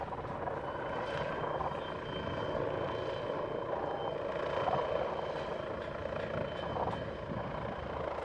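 A German Bölkow Bo 105 helicopter flies a demonstration at an air force open day, its rotor and turbine giving a continuous, fairly distant whine and thrum that swells slightly midway.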